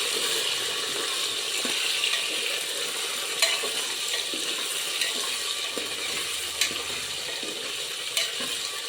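Potatoes sizzle and fry steadily in hot oil, with occasional sharp clicks of a utensil scraping and stirring the pan.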